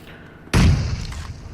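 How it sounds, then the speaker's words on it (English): A grenade goes off in a competitive battle royale video game match. It is a sudden loud boom with a heavy low thump that fades over about a second. "That second nade should do the damage onto Icy"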